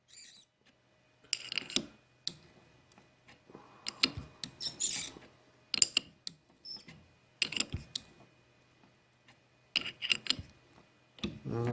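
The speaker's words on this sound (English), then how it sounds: "start to cut some threads again." A lathe cuts threads on D1-2 camlock pins with intermittent scraping and clicking bursts, quiet and close, separated by brief pauses.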